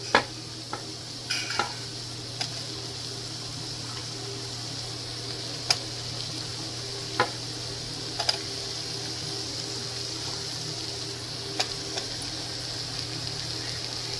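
Cut okra dropped into sizzling, well-mashed masala in a pan for vendaikai pulikulambu, a steady frying hiss with a few sharp stirring clicks and scrapes spread through, close and moderately loud with no talk.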